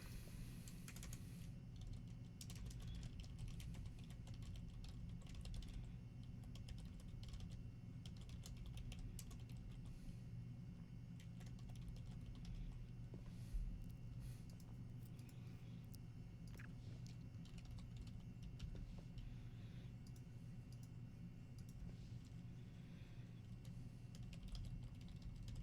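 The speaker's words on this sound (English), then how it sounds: "So let's type all this out." Steady rapid typing on a computer keyboard during a live hacking session, a continuous patter of small clicks at close range over a low hum, with no talking.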